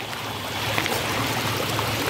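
Rainwater rushing along flooded, damaged roads in Mandi during monsoon rain, a steady broadband wash of flowing water close by, continuous and fairly loud with no voices.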